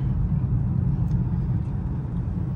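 Inside a 2021 Lexus LC500 at speed, a steady low tire and road roar fills the cabin, a constant rumble with no voices or sharp changes.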